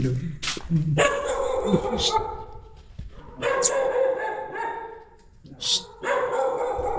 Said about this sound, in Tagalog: May malaking aso eh.